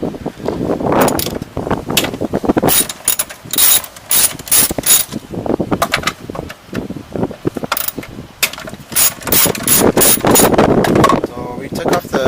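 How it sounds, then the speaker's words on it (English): A ratchet with a socket works two 10mm bolts loose on a Mazdaspeed 3, giving repeated bursts of close, sharp clicking with short pauses, while a voice talks over parts of it. "Okay, so remove these two 10mm bolts."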